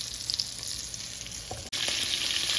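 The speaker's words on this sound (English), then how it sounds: "I see that sizzling going crazy." Pasta and noodles sizzle loudly in a frying pan, a steady hiss with a brief dropout before resuming, no voices.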